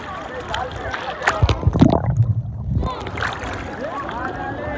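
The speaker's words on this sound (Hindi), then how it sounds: "लहरें देखें कितनी तेज तेज आ रही हैं" Strong waves wash against a boat or shore at Keenjhar Lake in Sindh, with sloshing and gurgling water over wind noise. People talk and shout loudly through the middle of the surge.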